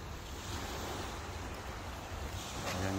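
Broadband surf noise of the sea in Kuwait washes steadily, mixed with gusty wind buffeting the microphone; no voices.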